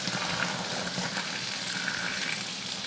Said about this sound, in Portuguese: nós vamos estar colocando agora 10 litros d'água em temperatura ambiente